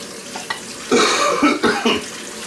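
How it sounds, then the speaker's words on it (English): A few harsh, close coughs in quick succession, loud and raspy, with a small throat sound just before them. "Sorry, it's just a weed cough."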